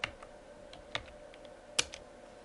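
Typing a web address on a computer keyboard: a few soft, sparse key clicks nearby in a quiet room, no talking.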